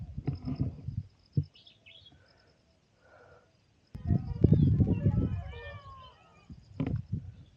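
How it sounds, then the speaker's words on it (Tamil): Peacocks calling in a forest, sharp wailing cries that come in short bursts amid other bird sounds, with a person speaking in between. "மயில்லாம் வேற கத்திட்டு இருக்குங்க காட்டில்."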